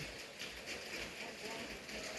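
Steady rain falls outdoors in a farming area, a faint even hiss of drops on surfaces with no break or other clear sound above it.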